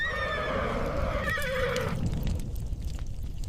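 A horse whinnies loudly and alone, a long wavering neigh sliding down in pitch over a steady backdrop of rushing, hoof-like noise, as in an ancient Egyptian chariot-era scene.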